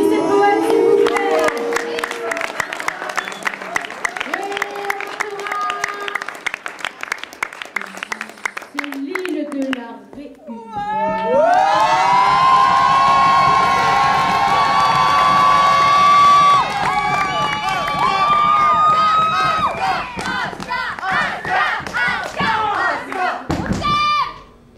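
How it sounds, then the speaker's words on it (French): At a slam poetry night, a crowd claps in a dense, rapid patter, then breaks into loud sustained cheering and shouting with voices mixed in. "applaudissez le poète, s'il vous plaît."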